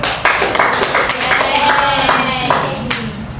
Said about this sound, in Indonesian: Sekali lagi beri tepuk tangan untuk kita semua.